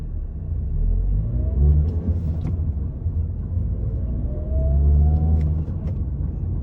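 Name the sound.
2018 Mazda 6 manual car cruising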